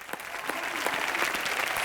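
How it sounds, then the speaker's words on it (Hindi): A studio audience applauds Sohail Khan on an entertainment talk show, steady dense clapping that continues without a break for the whole stretch, with no voices over it. "मैं चाहता हूं खड़े हो गए तालियां बजा जाए सुहेल भाई के लिए"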